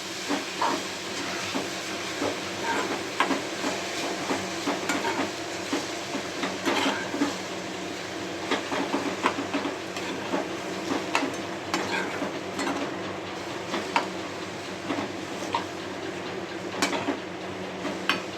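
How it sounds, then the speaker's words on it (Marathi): Raw mango pieces being stirred in a pot for mango murabba, a steady soft scraping and sizzling hiss with frequent light taps of the spoon against the vessel, close and continuous for the whole stretch with no talking. "कैरी ह्याच्यामध्ये टाकणार ना इतका छान सुगंध येतो ना. तर हे आता मी मिक्स करणार आहे"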